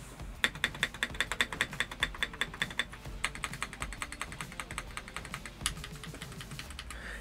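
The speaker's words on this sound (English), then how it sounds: "it's a great sounding keyboard" Typing on a stock TKL mechanical keyboard, a brisk, steady run of crisp, close keystrokes with a few short pauses, heard alone.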